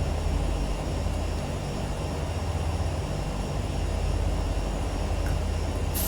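Twin turbine engines of a Turbine Duke in a flight simulator game hum as a steady, smooth, even whine and roar that stays constant throughout with no voices.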